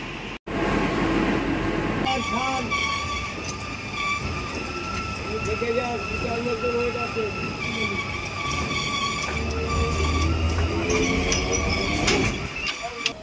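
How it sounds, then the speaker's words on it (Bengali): A suburban local train arrives at a station, its loud rumbling, screeching wheels and metallic clatter filling the scene up close, with a horn-like tone and voices of people talking nearby underneath. "একটা 12-7 লোকাল রয়েছে, ট্রেনটা ঢুকছে"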